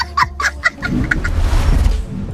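A rooster in a dogs' cage squawks and clucks in several sharp, frantic bursts as a dog leaps at it, followed by close scuffling and rustling noise as it flees.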